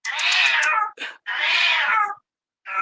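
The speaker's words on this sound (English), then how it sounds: "Oh, the kitty." A pet cat meows loudly and close, two long drawn-out cries with a short chirp between them and another starting at the end, otherwise quiet.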